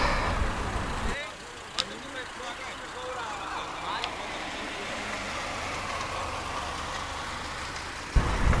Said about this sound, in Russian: А вот это современный 5-долларовый автобус, который от торгового центра меня отвезет обратно в мой отель.